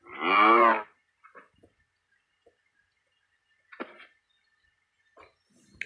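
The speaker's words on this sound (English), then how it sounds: "There's a baby cow." A single loud cow moo from Minecraft opens, followed by sparse faint game clicks and soft noises over silence.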